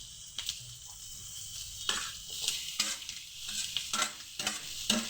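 Onions and tomatoes for tomato-mint chutney sizzle and fry steadily in a pan, with repeated scraping and stirring strokes of a utensil against the pan.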